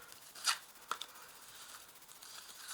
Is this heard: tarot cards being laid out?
yes